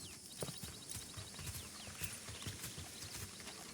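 Horse hooves clip-clop in a steady walking rhythm, faint and muffled beneath a noisy outdoor background.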